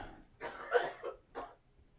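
A few quiet, raspy coughs come in quick succession, then one more after a short pause, fairly close.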